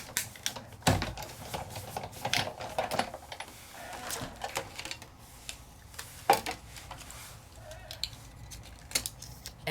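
A Sizzix die-cutting machine with cutting plates being rolled through it, giving uneven clicking and clattering at close range, with sharp knocks at irregular intervals and no talking.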